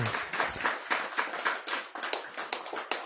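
Rhythmic hand clapping from an audience at a religious talk, a steady series of roughly regular claps at moderate loudness with no talking.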